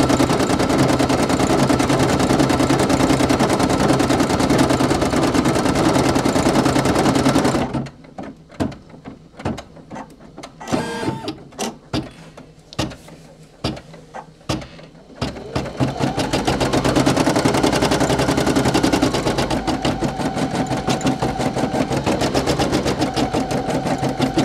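A Brother PE800 embroidery machine stitches a patch, its needle hammering in a fast, loud, steady rattle that breaks into short irregular bursts midway before resuming the continuous run, close up and without talk.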